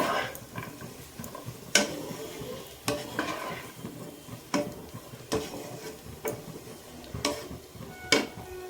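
A spatula stirs and scrapes vegetables around a pan while chowmein is being made, giving sharp clacks every second or so over a soft, steady sizzle. Nobody speaks.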